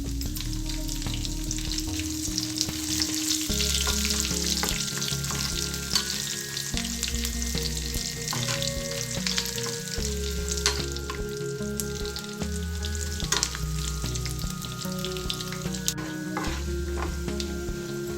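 Mustard seeds, chana dal, garlic and dried red chillies crackle and sizzle in hot oil as a tempering, a steady close frying sound with occasional stirring, layered under continuous background music.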